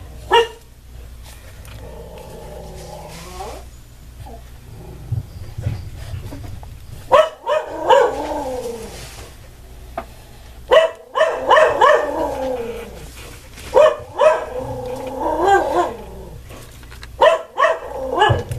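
Dogs bark at cats playing nearby, sounding as loud, irregular bursts of barks and yips with short whimpers between them, close by and without talk.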